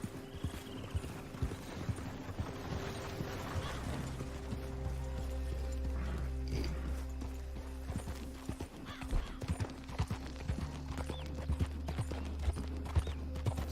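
Horse hooves clip-clop on the ground in the video game Red Dead Redemption 2 Online, a rhythmic series of close, crisp strikes over a low rumbling game ambience, with a faint mechanical clatter and a brief whinny-like sound.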